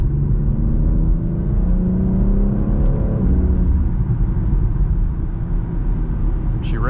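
A BMW X4 M Competition accelerates hard in M mode, its engine note climbing through quick shifts as a loud, rising roar from inside the cabin.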